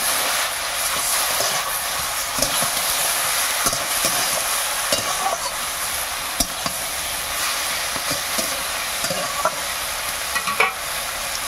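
Vegetables being stirred in a pan after salt is added, with a steady, close sizzle of frying under repeated scraping and clinking of a spatula, with no one talking.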